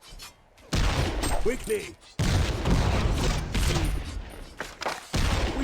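Bursts of gunfire in a dwarf-themed shooter video game, loud and dense, joined by other in-game sounds and short voice lines spoken over the action.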